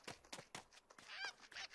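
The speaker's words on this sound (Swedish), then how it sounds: "Du är en tupp." Bird character squawking and honking in a video game, a short series of sharp, nasal calls in uneven rhythm, fairly close and with no talk over them.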